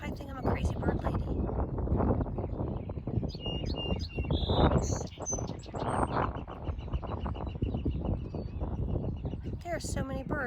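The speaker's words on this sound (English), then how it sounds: "So, can you hear all the birds?" Many birds chirp and trill outdoors in overlapping calls, with a voice talking over them.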